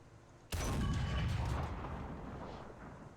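A T-34-57 tank cannon fires at a Tiger II (H) in a tank video game: one sudden heavy boom half a second in, followed by a long rumbling decay that fades slowly, with no talking over it.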